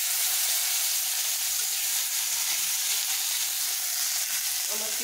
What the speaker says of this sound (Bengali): এবার এইটাও হালকা করে ভেজে নেব